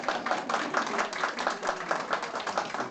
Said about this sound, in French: Nusha, vous pouvez l'applaudir.